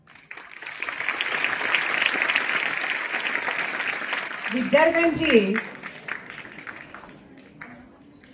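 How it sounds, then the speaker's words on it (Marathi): Applause from an audience at a school event marking a tobacco-free campus campaign, a sustained burst of clapping that fades toward the end, with a voice speaking partway through. "ज्या टाळ्यांचा कडकडाट मिळालेला आहे"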